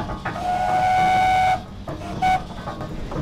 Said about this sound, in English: It carries a variety of whistles on it, but back in the day, really, it only had one whistle for purposes of communication within the forest.